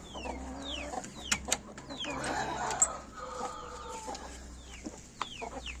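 Hens and a rooster in a backyard coop cluck and chirp steadily, with sharp squawks and calls standing out over a low continuous hum.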